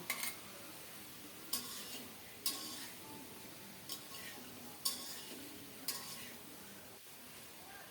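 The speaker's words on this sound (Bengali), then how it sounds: "মশলার সাথে ফুলকপিটাকে আরও কিছুক্ষণ কষিয়ে নেব এখন দিচ্ছি ভেজে রাখা আলুগুলো" Cauliflower and fried potatoes are sautéed with spices in a pan for a rohu fish head curry, with a soft sizzle and a few light, spaced spatula taps and scrapes, faint and close, with no talking.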